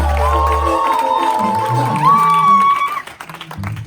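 A church congregation cheers and shouts with joy, loud crowd cries and some clapping rising together, then thinning out near the end.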